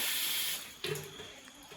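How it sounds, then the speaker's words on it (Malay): Plain water poured into a cooking pot for boiling spaghetti, a brief hissing rush of water that breaks into a splash and trails off, close and fairly quiet, without speech. "mula-mula letak air kosong dalam periuk yang estetik"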